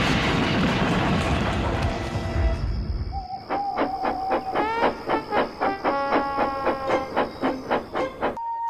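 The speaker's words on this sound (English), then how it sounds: "His driver reduced steam and braked hard." A steam locomotive gives a heavy roaring hiss of released steam, then a rapid run of squealing, pulsing brake shrieks that repeats to the end, loud and close with no speech.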